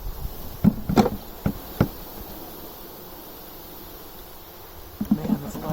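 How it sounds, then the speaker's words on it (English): Honey bees being poured from a package into a hive, a faint steady hum of buzzing beneath scattered knocks and thumps of the box and frames. "Man, that's a lot of bees."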